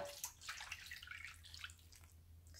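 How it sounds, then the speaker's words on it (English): Dark coffee pours into a pan for dyeing paper, a faint trickling and splashing of liquid with small drips, quiet and close. "And I'm going to pour this into my pan."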